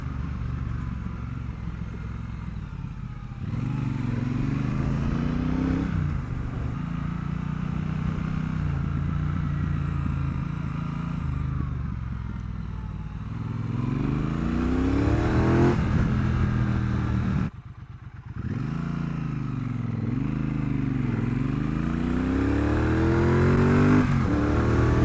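Triumph Bonneville Bobber 1200 motorcycle climbing a hill, its engine revving up and dropping back through several gear changes, a steady close drone with one brief cut in the middle and no talking.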